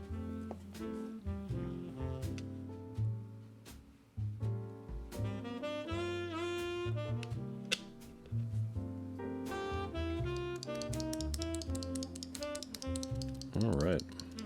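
Rapid keystrokes clatter close up on a mechanical keyboard fitted with lubed and filmed vintage Cherry switches, the clicks and taps coming in irregular bursts over steady background music.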